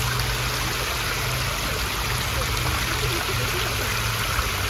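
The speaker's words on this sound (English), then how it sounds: "It's like these kind of little tiny steps that create a waterfall." Water trickles and splashes steadily down a small outdoor waterfall of tiny stone steps, a continuous close babbling stream sound with a faint low hum beneath.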